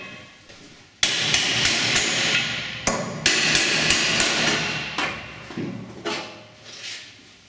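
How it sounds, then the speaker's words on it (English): A hammer strikes metal repeatedly to knock out a welded support brace, about a dozen sharp, loud ringing blows in an uneven rhythm, close by in a workshop. "we can cut off the top support brace and gently hammer it out"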